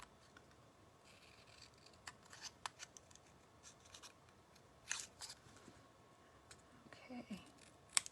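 Scissors snip through cinnamon cider cardstock in a quiet room, a series of faint, crisp cuts spaced irregularly with short pauses between them.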